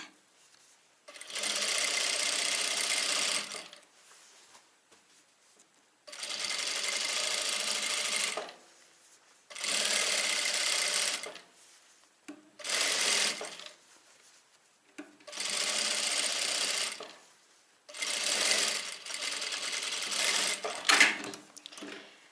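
A sewing machine topstitching a trouser waistband from the outside, running in six steady bursts of a few seconds each, separated by brief quiet pauses. Nobody speaks.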